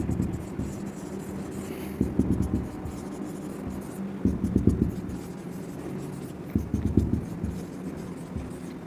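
Pen or marker scratching notes on a board during a Class 11 physics lecture, in three short bursts of writing separated by pauses, fairly close with a faint room hum.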